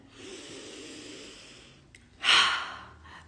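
A person breathes in slowly and deeply, a soft airy draw near the microphone, followed by a louder, sharper burst of breath toward the end.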